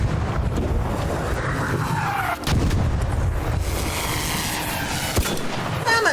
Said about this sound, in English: I'm just shooting everywhere